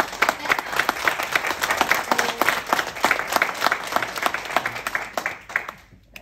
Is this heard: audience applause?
yes